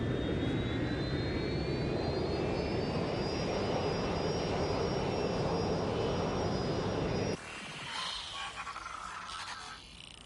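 A passenger airplane in the Watch Dogs Legion video game drones steadily overhead with a loud, sustained jet engine roar and a faintly rising whine, cutting off abruptly near the end into quieter game ambience.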